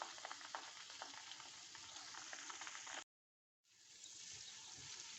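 Onion, rice, leaves and aloe vera cook in mustard oil over a very low flame, giving a soft, even crackle and hiss that drops out briefly and then resumes, quiet and close.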